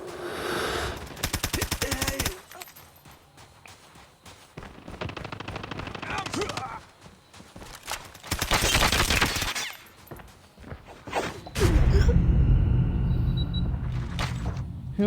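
Rapid automatic gunfire in a Call of Duty video game, several bursts of varying loudness mixed with explosions, rumble and in-game voices calling out.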